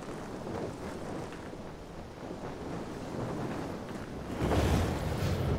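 Wind blowing in Dying Light 2: Stay Human, a broad continuous rushing gust that swells louder toward the end, with no voices.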